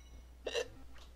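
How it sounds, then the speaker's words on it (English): A single short hiccup, loud and close, with a faint second catch of breath just after. "I have the hiccups."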